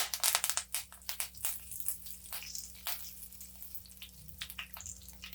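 Mustard seeds pop and splutter in hot oil in a pan, a close, dense run of sharp crackles and spits that starts loud and settles into steady sizzling.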